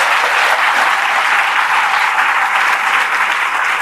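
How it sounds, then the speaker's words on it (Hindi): Dense, steady applause from a group of students clapping for farmers at an Independence Day school address, filling the whole stretch at even loudness with no voices on top. "तो हमारे किसानों के लिए हम चाहते हैं कि तुम लोग एक बार ताली बजाओ।"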